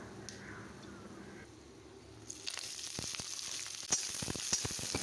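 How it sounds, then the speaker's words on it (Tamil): Small shallots, green chillies and curry leaves sautéing in hot oil: a quiet sizzle that swells after a couple of seconds, with scattered clicks and scrapes from stirring. "சின்ன வெங்காயம், பச்சை மிளகாய், கருவேப்பிலை 3ஐயும் போட்டு நல்லா வதக்கி விட்டுடலாம்."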